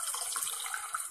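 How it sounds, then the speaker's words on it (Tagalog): A little water trickles briefly into a pan while tilapia paksiw with calamansi or lemon is prepared, a short, close splashing pour. "saka maglagay tayo ng kunting tubig"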